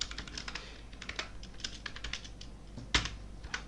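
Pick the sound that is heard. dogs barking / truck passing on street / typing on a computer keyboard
typing on a computer keyboard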